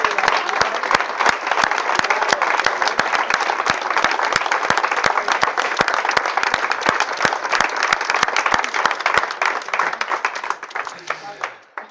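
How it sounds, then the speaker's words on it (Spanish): A crowd applauds two actors for a sustained stretch, dense clapping at close range holding steady before tapering off at the end. "Otro aplauso por ello, por favor."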